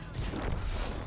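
A tank gun fires in World of Tanks with a single dense, broad boom that fills the brief moment, loud and close without any talk.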